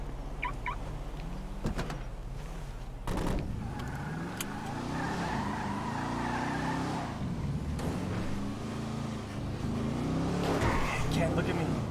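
A car drives in a video game, its engine droning and rising in pitch with tire noise and a skid, mixed with speech and game sounds throughout.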